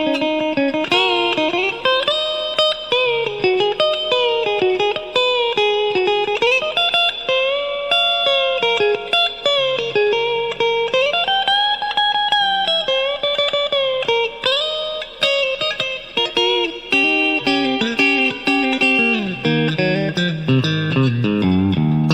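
A Harley Benton Fusion electric guitar on its middle pickup plays clean, bright melodic lines with quick runs and sustained notes, loud and close and without speech.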